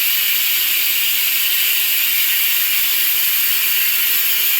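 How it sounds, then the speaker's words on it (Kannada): A pressure cooker whistle letting off steam, a loud, sustained hissing shriek that holds steady through the whole clip with no pause and no talking. "cooker 2 vigil ಹೊಡೀತು"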